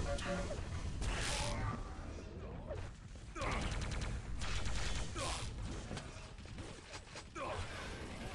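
Lightning gun fire rattles through a Quake team deathmatch, a dense continuous crackling buzz with bursts of weapon blasts and game effects running loud for the whole stretch.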